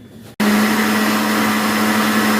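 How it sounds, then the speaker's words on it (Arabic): After a brief quiet moment, a blender switches on abruptly and whirs loudly and steadily at close range, blending cauliflower batter with water. "اضيف عليها بقى كوبايه ميه، بسم الله الرحمن الرحيم، واضرب ده كله في الخلاط"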